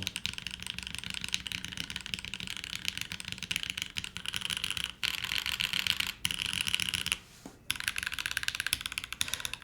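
Continuous fast typing on a newly built Ayleen TKL mechanical keyboard fastened with four screws, with dense clacky keystrokes running steadily up close and two brief pauses.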